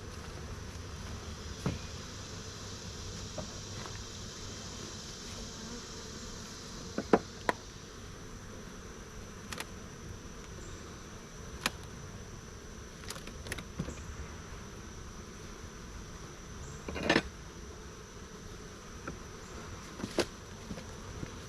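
Steady honey bee buzzing fills the background, a dense hum of many bees, with a few sharp clicks and knocks scattered throughout, as bees are cleared off a hive with a fume board.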